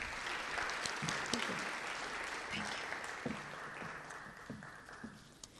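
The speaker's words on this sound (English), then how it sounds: "Let's give them a round of applause." A crowd applauds steadily for Braden River High School students, clapping filling the space throughout, with scattered louder claps and some voices mixed in, slowly tapering near the end.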